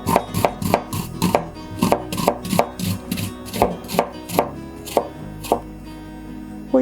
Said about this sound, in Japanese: みじん切りにします。